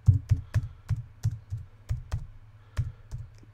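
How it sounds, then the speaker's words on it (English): Keys on a computer keyboard pressed in a quick irregular run of about a dozen sharp, close clicks and thuds, heard alone during a Windows 3.x game. "I'm pressing a bunch of keys here."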